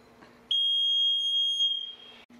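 A smoke alarm, set off by smoke from a blown-out candle, sounds a single loud, shrill high-pitched tone lasting about a second and a half, then stops.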